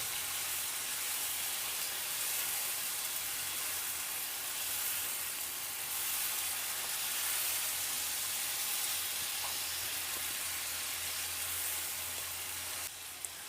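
Finely chopped green chilies frying in a pan give off a steady, soft sizzle and hiss that runs unbroken throughout, with no voices.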